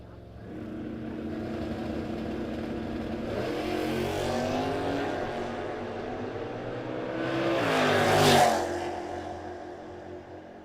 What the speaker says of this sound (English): Car did not sound healthy at the top end of the racetrack.